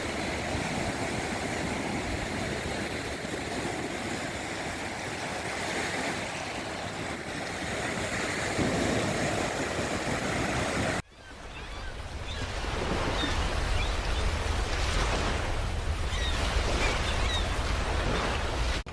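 Continuous roar of sea surf and wind at Bashbaria sea beach, Sitakunda, near sunset, broad and steady, with a rougher windy stretch giving way to crashing waves.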